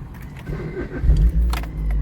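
A manual car's engine is started during a first-session driving lesson, a low rumbling crank and catch rising over about two seconds, with some jangling of keys near the start.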